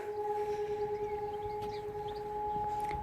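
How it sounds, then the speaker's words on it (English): Steelworks sirens wail in the distance as two steady, unbroken tones heard from a nearby allotment, with faint outdoor ambience underneath. "you can hear the sirens from the steelworks"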